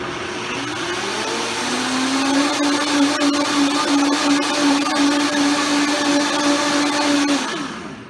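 A Vitamix blender running on high as it blends blueberries and pineapple into juice: a loud, steady motor whine that rises in pitch after a second or so, holds, then winds down at the end.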